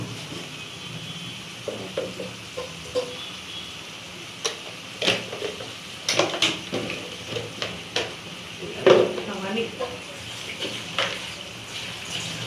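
Spice masala of chili and coriander fries in a pan for a Tengra fish curry, with a soft sizzle under irregular scraping and stirring clatters at close range.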